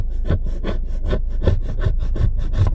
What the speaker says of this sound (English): Let me finish scraping the rest.